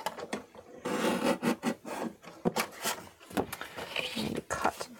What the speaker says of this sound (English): So seeing as I have my trimmer on the go, my guillotine,